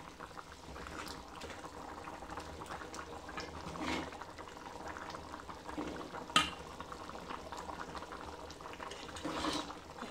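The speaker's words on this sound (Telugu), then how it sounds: "సో పులుసు అయితే బాగా ఉడుకుతుంది." A pot of taro root curry (pulusu) bubbling steadily on the stove, a soft continuous simmer with faint pops and one sharp clink, fairly quiet and without talk.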